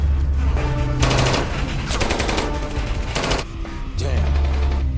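Bursts of P90 submachine gun fire in an action fight scene from a Tekken film, several loud rapid volleys with brief gaps between them, set against a steady background score.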